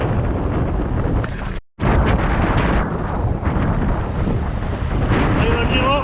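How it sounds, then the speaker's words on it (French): Strong wind roars across the microphone while riding a gravel bike on a road near Saint-Tropez, a loud continuous buffeting rush that breaks off for a split second and then resumes. "C'est le retour, toujours le vent."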